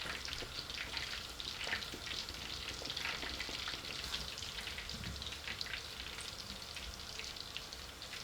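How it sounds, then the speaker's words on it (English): Chapli kebabs fry in a pan, a steady soft crackling sizzle with fine popping spatters throughout, fairly quiet and with no voices. "We're only showing 4 for the sake of showing you the kebabs cooking."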